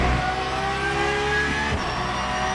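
A Porsche 992 engine in a racing game at Le Mans, running loud and steady at high revs with a brief dip and pickup as it shifts through the gears, sounding close and alone.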